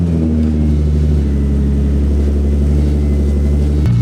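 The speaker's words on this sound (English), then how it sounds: "I want to drive it around a little bit, see if I get any noise or anything like that" A car with a newly installed aftermarket rear diffuser drives along, giving a steady low engine rumble and road drone that holds even and close, with a slight shift partway through and no rattles standing out.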